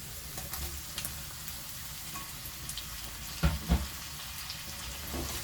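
Tomatoes tipped into a pan of tempered spices for a chickpea curry, giving a quiet, steady sizzle with a couple of brief louder bursts partway through.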